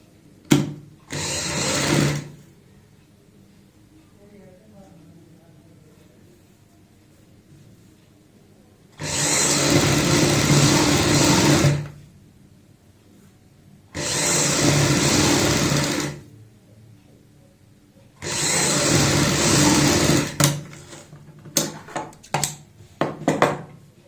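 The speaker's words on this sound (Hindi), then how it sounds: "और इसी के साथ में सिलाई लगा देते हैं।" A sewing machine stitches the neckline fabric of a kurti in four separate bursts of fast, loud needle chatter, with quiet pauses between the runs.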